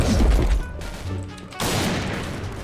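Rapid gunfire in a first-person shooter video game, a dense burst of many shots loud and close at the start, a brief lull, then another sustained burst of firing.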